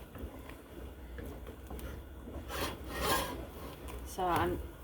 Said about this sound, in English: So I'm also using my rubber spatula to get it off the sides too.